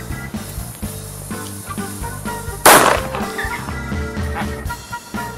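A single sharp, bright bang from a Silver Pirate firecracker with 0.8 grams of black powder cracks out mid-clip over a background of noisy music, with a crackling tail after the blast.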